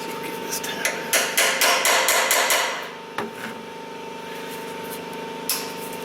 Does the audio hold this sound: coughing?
no